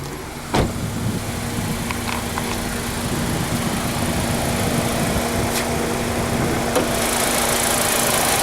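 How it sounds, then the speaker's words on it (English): A 2017 Kia Rio's 1.4-litre engine idles with the bonnet open, a steady close hum with a faint whine that stays even throughout, marked by one brief click near the start. "So I'm just going to pop the bonnet so you can listen to the engine."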